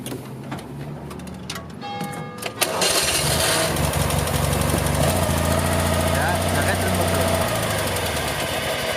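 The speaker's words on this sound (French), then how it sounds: "le bruit de l'embrayage centrifuge quand je l'arrête" A 1958 Citroën 2CV engine ticking and knocking at idle, then a sudden louder, steady mechanical run with a whirring centrifugal clutch and tonal hum, close and continuous for the rest of the clip.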